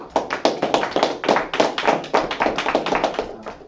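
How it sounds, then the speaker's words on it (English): A small group claps at a religious feast gathering, sharp hand claps coming fast and uneven, fairly close and lively, with no voices over them. "let's clap it up"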